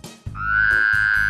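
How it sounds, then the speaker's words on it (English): A frog gives a single drawn-out croak, loud and close, holding one steady ringing tone for about a second after a short low grunt. "A frog makes a ribbit sound."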